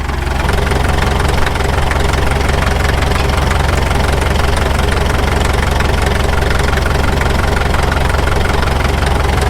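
A Caterpillar D2 bulldozer diesel engine at low idle, loud and close, with a steady, even knocking chug and a heavy low rumble that stays constant throughout.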